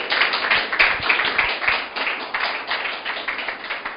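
Church congregation applauding, a dense wash of many hands clapping steadily at close range for a few seconds, with no talk over it.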